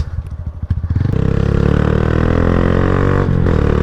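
Honda Grom motorcycle riding past or accelerating: a few sputtering engine pulses give way to a loud, steady, buzzing drone that holds strong and close for several seconds, with no talking.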